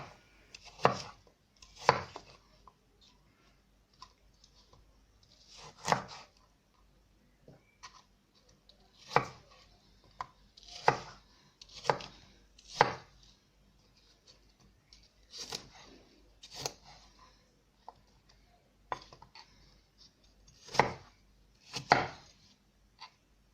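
A knife chops apples into cubes on a board, making irregular crisp knocks, sometimes single and sometimes in quick pairs or clusters, close by with quiet pauses between and no talk.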